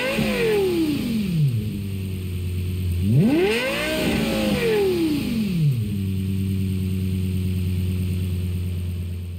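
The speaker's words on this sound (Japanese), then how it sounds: "ちなみに参考までに LFA はこんな感じの音になります。" A Lexus LFA engine in Gran Turismo 7 settles at idle, then snaps up to a high, smooth rev and sweeps back down, does it once more, and returns to a steady idle, loud and close with no talking.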